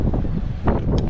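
Wind blowing across the shore at night during fishing at Port Mansfield, gusty low rumble buffeting the microphone in uneven bursts, close and moderately loud with no voices.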